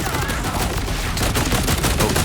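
Potato Thrower IV assault rifle from Borderlands 4 firing in a continuous rapid burst of close, loud shots with no talking.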